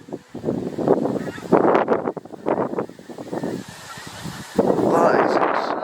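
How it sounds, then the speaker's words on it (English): A large flock of geese flies overhead, giving a continuous chorus of overlapping honks at moderate distance, with wind and faint background noise throughout. "So I'm just showing you a video where there's more and more geese just going all the way across."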